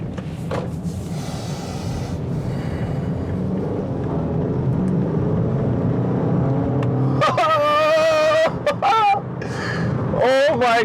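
A tuned Skoda Octavia's engine drones and rises as it accelerates, with revs climbing sharply near the end; people talk excitedly over the engine noise.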